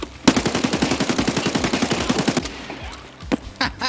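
Rapid automatic gunfire in Escape from Tarkov, two magazines emptied point blank into the Senator boss; a loud, evenly spaced burst of shots runs for about two seconds, followed by a few scattered shots and clatter.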